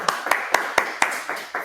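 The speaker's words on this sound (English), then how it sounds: "let's thank Augusto with a warm round of applause" A handful of people clap at a steady, even pace after an academic presentation on RePlace and the OpenROAD project, with about seven sharp, distinct claps, close by in a small room rather than a full applause.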